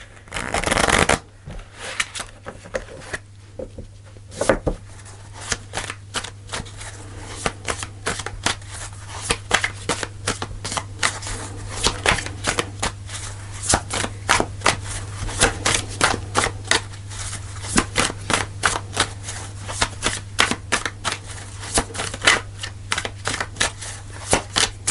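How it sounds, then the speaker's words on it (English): Tarot cards are shuffled repeatedly, a dense run of quick papery riffles and flicks close by, continuing for the whole stretch over a low steady hum. "Okay, I'll do one more shuffle."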